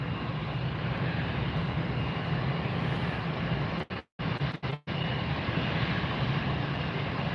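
A Douglas DC-3 propeller airliner at Fort Lauderdale airport drones with a steady, loud broadband engine roar that briefly cuts out twice midway before resuming.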